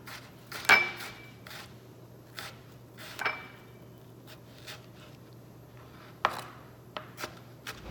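A knife mincing tomato on a cutting board for bruschetta, with sparse, irregular soft chops and taps spread out quietly over a low steady background hum.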